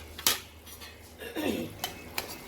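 Brinjal pieces tipped into fried masala in a pan, with a few sharp metal clinks of utensil on pan and a soft scraping stir in the middle, close and fairly quiet.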